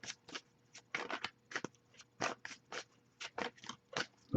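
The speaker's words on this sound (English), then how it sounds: "but I'll give it a few more shuffles." Oracle cards being shuffled by hand, a run of crisp riffling bursts repeated about a dozen times in an irregular rhythm, close and clear with quiet pauses between.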